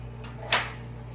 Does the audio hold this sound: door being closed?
yes